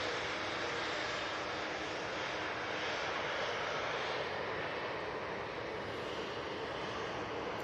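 A departing airliner at Manchester Airport, the early flight to London, gives off a constant distant engine roar, steady and broad with no talk.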